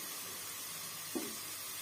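Carrot rice stirred in a pan, a faint steady sizzle with one soft scrape of a spoon partway through, quiet and close.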